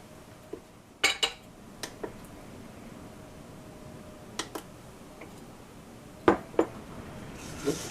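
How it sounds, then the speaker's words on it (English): Light metallic clinks and taps of a lid being handled and set back on a cooking pot: scattered sharp clicks, a pair near the start and more later, against a quiet background. "Go ahead and put the lid back on."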